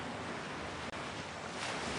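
Ocean waves on the Norwegian coast, a steady broad wash of surf with wind noise, loud and continuous with no talk.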